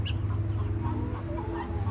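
Chickens and roosters cluck and murmur together inside an exotic bird shop, a steady close flock chatter with a few higher calls, no one speaking.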